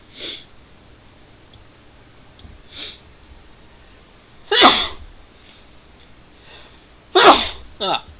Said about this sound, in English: sorry for the sneezes